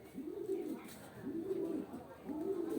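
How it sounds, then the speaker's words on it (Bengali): Large pigeons, bigger than a chicken, coo close by in three slow, swelling phrases that rise and fall with short gaps between them, over a faint background hiss. "এ বড় বড় কবুতর, একটা মুরগির চেয়েও বড়।"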